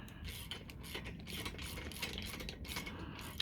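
Socket ratchet snugging bolts on a Harbor Freight Pittsburgh 2000 lb engine stand during assembly, a steady run of close mechanical clicking and ratcheting with metallic rattles, no talking.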